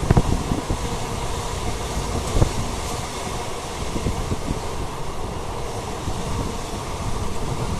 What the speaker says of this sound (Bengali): Barrackpore two Dumdum train journey